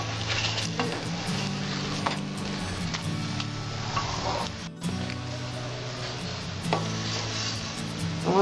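Yogurt paratha frying in a pan, giving a steady close sizzle with occasional scraping and tapping from a spatula, continuous and fairly loud, with no talking.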